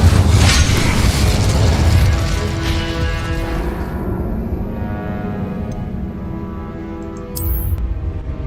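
Spell explosions in Hogwarts Legacy, with a loud booming blast at the start that rolls into a long rumbling decay and fades over several seconds, followed by a brief sharp chime near the end.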